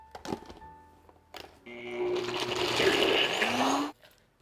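A blender pulverizes cashews and dates for vegan pumpkin spice chocolate brownies. After a few knocks and clatters, the motor kicks in with a loud, whirring grind for about two seconds, then cuts off abruptly.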